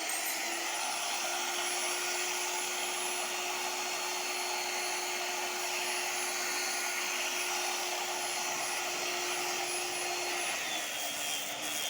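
A polishing machine works on a temple flagpole, giving off a steady, loud, unbroken motor whine with a high pitched tone. No one speaks over it.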